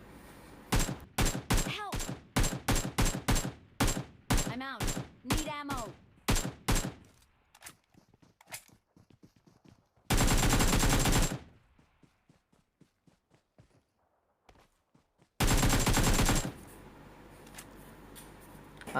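Rapid automatic gunfire sprayed in PUBG, an opening run of quick sharp shots with echoing tails, then scattered faint pops and two dense sustained bursts later, loud and without talk.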